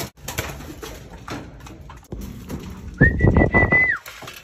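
Pigeons cooing and shuffling close by while being fed in a loft, soft repeated coos with rustling and a brief whistle-like tone near the end, no talk.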